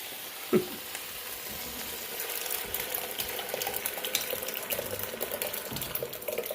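Pork browning in a pot for chili verde gives a steady, moderately loud sizzle throughout, with faint scraping and one sharp knock near the start, and no one talking.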